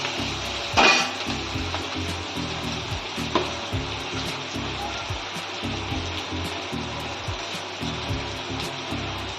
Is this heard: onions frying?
yes